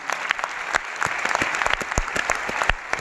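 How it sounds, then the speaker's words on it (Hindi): An audience applauds a trading company's founders at an event in India. Scattered individual claps ring out sharp and distinct over a softer bed of clapping, moderately loud and without speech. "एक बार जोरदार तालियां"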